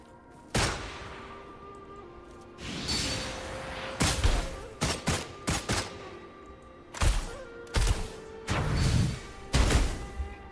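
A volley of video-game gunfire from a firing squad fires in sharp bursts, with loud cracks clustered irregularly and short pauses between them, no talking over it.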